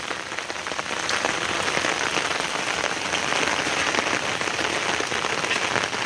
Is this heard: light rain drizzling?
yes